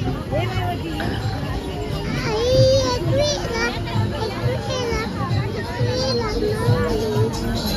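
Dense crowd at the Kelambadevi temple gate on the first day of Navratri, a constant hum of many voices with children's chatter and calls standing out close by.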